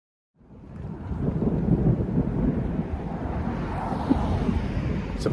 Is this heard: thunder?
yes